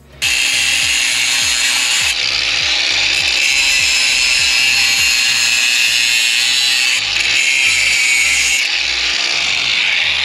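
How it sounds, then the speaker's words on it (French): An angle grinder cuts into the rusty exhaust of a Toyota LJ70, a loud continuous high whine with steady grinding that runs the whole stretch, briefly dipping twice as the disc bites. "Un petit coup de disqueuse."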